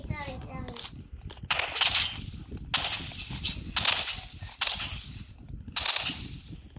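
Rapid bursts of gunfire from the video game Rivals crackle in repeated clusters, loud and close, separated by brief pauses, with a voice and other talk mixed in.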